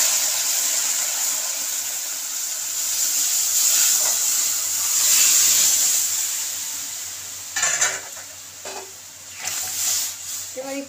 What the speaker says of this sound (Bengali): এবার একটু ডালটাকে ফুটিয়ে নিই।